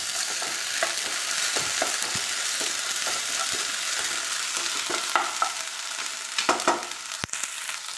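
Ginger garlic paste sizzles and spits in a hot pan as it is sautéed, with a steady bright frying hiss and irregular stirring scrapes that grow busier toward the end.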